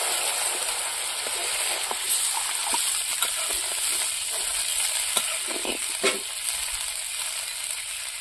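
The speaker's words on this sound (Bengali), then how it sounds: "মশলাটা ভালো করে কষিয়ে নিয়েছি, এবার একটু হালকা করে জল দিয়ে দেবো।" Spice paste sizzles and fries steadily in a pan, with scattered stirring clatters and a brief louder hiss as water is added, no voices.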